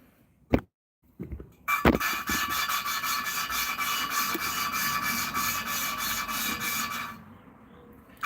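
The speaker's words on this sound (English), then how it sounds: "as I rub the 2 pieces of metal together, the micro abrasives polish the surfaces." A metal valve from a 3rd gen Hemi cylinder head is rubbed against its seat with abrasive lapping compound, giving a steady, close, gritty rasping grind for several seconds after a few knocks, with no speech.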